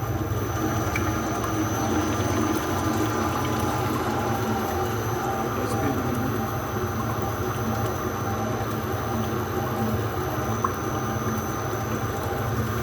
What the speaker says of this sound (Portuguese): Agora, isso aqui é uma misturadora